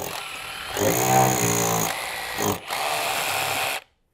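Power drill boring into a plaster ceiling with plastic anchors nearby, a steady whirring bursts for a few seconds, pitch rising briefly, then stops abruptly.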